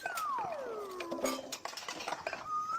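Pots and dishes being washed: scattered clinks and clatters of metal and crockery, with a gliding, whistle-like tone drifting over the clatter.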